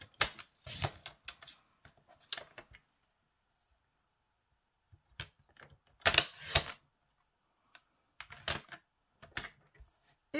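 Scissors cut a piece of paper into four for a pop-up card, producing sparse, close, crisp snips and rustles separated by near-silent pauses.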